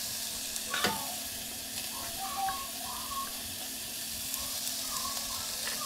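Chopped garlic and ginger sizzle steadily in a hot frying pan, a constant bright hiss with a few soft clinks and stirring sounds.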